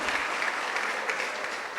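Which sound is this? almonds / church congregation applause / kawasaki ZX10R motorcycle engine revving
church congregation applause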